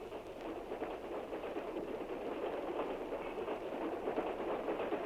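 Continuous rumbling of a moving train, a steady mechanical drone with faint rhythmic clatter underneath, no talk.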